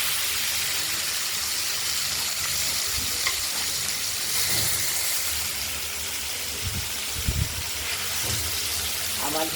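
Katla fish pieces fry in hot oil in a pan, a steady broadband sizzle with sputtering pops and occasional louder crackles and clatter, continuous throughout with no voices.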